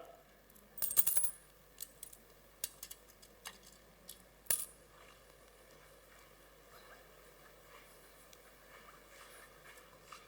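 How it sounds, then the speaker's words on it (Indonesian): Coins dropping and clinking on a hard surface, a burst of rattling jingles near the start followed by several scattered single clinks, faint and close in a quiet room. "Dari suaranya, kira-kira kita bisa tahu di mana arah koin itu?"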